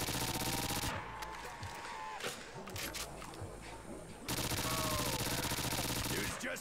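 Shock ammo gunfire in a custom zombies map, rapid crackling bursts of automatic shots with electric zaps mixed in, loud and dense in the game's noisy backdrop.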